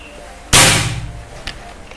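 An FX Royale 500 air rifle discharges once with a punchy, close crack that rings off quickly, followed by a faint click amid quiet surroundings.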